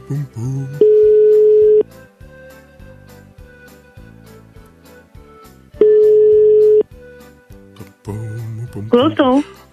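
Telephone ringback tone on an outgoing call, two long steady beeps about four seconds apart over a rhythmic background beat, followed by a voice answering at the end.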